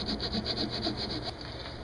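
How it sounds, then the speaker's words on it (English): Fine sandpaper scrubbing a crystal radio coil, a close, soft, steady back-and-forth rasping in quick repeated strokes with no talking. "you can clean it up a little bit with some finer sandpaper"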